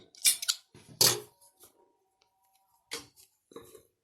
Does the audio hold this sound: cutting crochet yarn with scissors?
yes